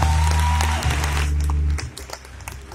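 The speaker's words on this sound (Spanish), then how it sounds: "un fuerte aplauso para ellos" Applause from a crowd starts loud and steady, with a sustained tone underneath, then thins out into scattered claps that fade.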